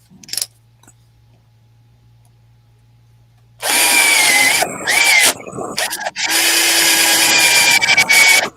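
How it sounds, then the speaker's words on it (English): An electric drill whirs loudly into wood after a quiet pause, running in long bursts with brief stops and pitch changes as it bores through. "Just going to drill a hole for this."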